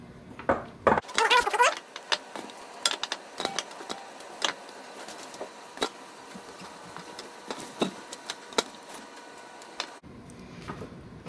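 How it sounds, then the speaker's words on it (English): Chopped vegetables, peaches and peppers, pressed into a glass fermentation jar for smoky green hot sauce: a run of close clinks, taps and knocks of produce and utensil against glass, bursty at first and then sparser, with no talking. "So, just like this, we're going to keep packing this jar."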